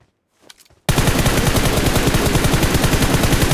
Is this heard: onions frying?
no